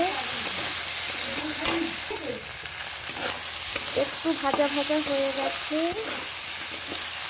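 Potatoes fry in a hot pan, a constant crackling sizzle with brief stirring scrapes and bubbling bursts that rise and fall, close and loud the whole time.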